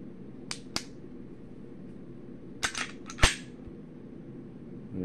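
Dry-fire trigger clicks on a Zastava EZ9 pistol, a few sharp isolated clicks spaced apart, close up in a quiet room.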